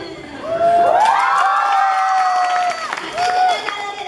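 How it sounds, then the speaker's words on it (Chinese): A crowd at a campus welcome camp performance cheers and shouts loudly, with high whooping voices rising over clapping throughout. "谢谢大家热烈的掌声"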